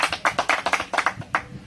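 A small group of people clap close by in a quick, fairly even rhythm, about a dozen crisp claps in under two seconds with no voices.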